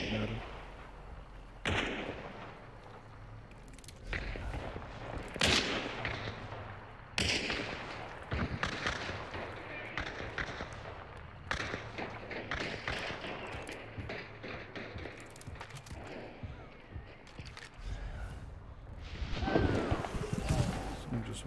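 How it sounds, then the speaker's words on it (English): Gunfire in Hunt: Showdown, a run of sharp shots at irregular intervals, some near and loud, others more distant, with rumbling echoes trailing between them. "Someone's shooting at him."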